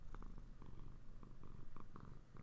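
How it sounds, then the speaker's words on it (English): A happy male pet cat purrs steadily close up, a continuous low rumbling with rhythmic breathy pulses and no talking over it. "The people are going to hear you purring, baby."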